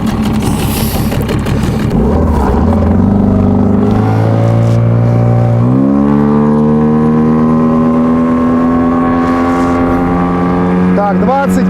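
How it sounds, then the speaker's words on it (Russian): A Tohatsu 9.8 outboard motor on a Flagman 330U boat is started, then revs up into a loud, steady drone that climbs in pitch over several seconds as the boat gets under way, with a voice speaking over it. "Так, заводим моторчик."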